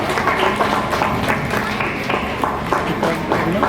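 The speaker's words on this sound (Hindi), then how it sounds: "एक जोरदार ताली बजा दीजिए" A crowd at a children's program gathering applauds with a busy, uneven clatter of many hands, fairly loud and close, while someone talks over the clapping.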